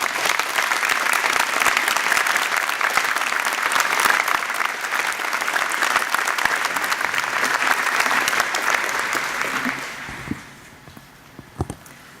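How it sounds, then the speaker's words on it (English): Graduation convocation audience gives a speaker a long round of applause, dense and even clapping that fades out near the end, leaving a few footsteps and small knocks. "Please join me in giving Dr. Caspi a round of applause of congratulations as she approaches the podium"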